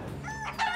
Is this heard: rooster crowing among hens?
yes